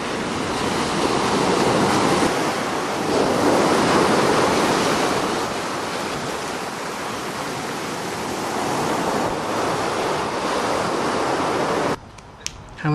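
Hawaiian ocean surf rolls in with a continuous loud roar of breaking waves, swelling and easing, wind adding to the wash; the sound cuts off near the end.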